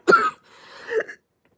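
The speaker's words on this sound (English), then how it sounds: "I still have the cough." A single person coughs up close: one sharp burst followed by a rougher, throat-clearing follow-through, then silence.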